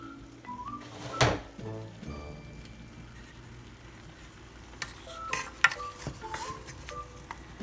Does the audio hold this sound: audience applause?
no